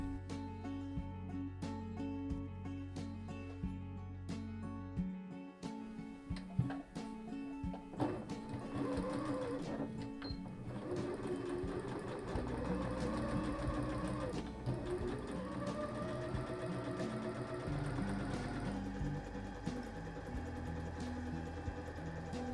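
A sewing machine stitches the lengthwise seam allowances of a jacquard jacket sleeve, running steadily with shifts in speed and a brief pause partway through, close and without any voices.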